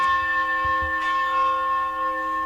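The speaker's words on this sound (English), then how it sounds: "The bells." A church bell rings with a sustained, resonant tone, its harmonics hanging steadily in the air as the chime slowly decays.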